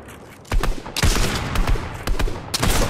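Rapid gunfire in the video game Fortnite, dense overlapping shots in loud, continuous bursts with brief gaps.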